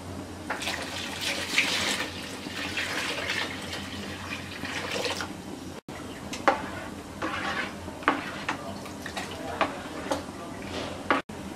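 About 1.5 litres of water poured into a cooking pot holding banana juice for a banana cake, then stirred, with a close trickling flow, faint clinks and scrapes of utensil against the pot, and a few brief interruptions.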